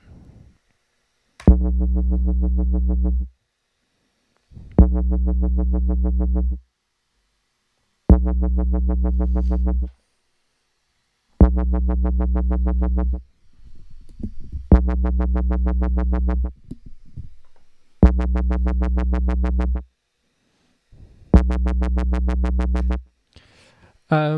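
A deep wub bass synth plays seven sustained notes with short silent gaps between them, each note wobbling as its filter sweeps, a sub bass with filter modulation.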